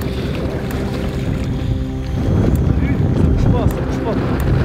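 Wind buffets the microphone outdoors during a carp-fishing session in Morocco, a steady low roar that grows stronger and gustier halfway through.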